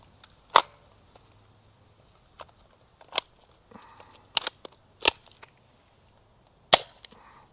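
Nerf Rival Knockout toy blaster firing foam balls, a handful of sharp, separate snapping shots spaced irregularly with quiet gaps and faint clicks of handling between them.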